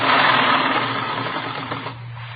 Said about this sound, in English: I've got this sewing to do